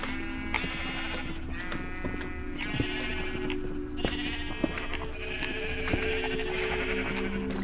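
Sheep in the video game Minecraft bleat repeatedly in short, wavering calls at a steady rhythm over a constant low background hum, with no talking.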